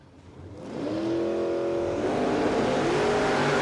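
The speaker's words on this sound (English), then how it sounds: "A lot of wheel spin for the VL Commodore off the line." A VL Commodore drag car launches off the line at Willowbank Raceway with heavy wheel spin, the engine surging to a loud sustained roar that climbs in pitch and holds, close and dominant with no talking.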